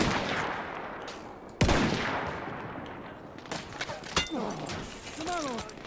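Battlefield 1 combat: a continuous noisy rumble of battle with a sharp close gunshot, scattered further shots and impacts, and whistling ricochet-like tones near the end.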